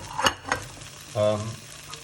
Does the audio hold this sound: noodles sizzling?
yes